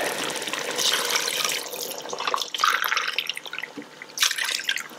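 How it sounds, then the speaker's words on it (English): Water splashes and pours into an Instant Pot over chicken in uneven bursts, close by and moderately loud, with a few sharp splashy surges. "Just pour water until the chicken is submerged."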